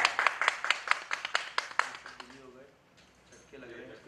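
About a dozen sharp, evenly spaced hand claps ring out close by for roughly two seconds, then stop as voices take over.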